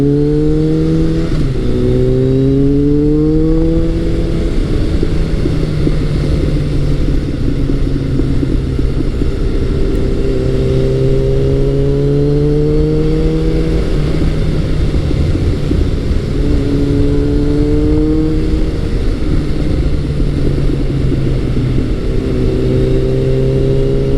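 Retro superbike, either a Kawasaki ZRX1100 or a Honda CB1100, accelerating on the throttle, a loud, steady engine drone rising in pitch through repeated gear changes, heard close throughout with no talk.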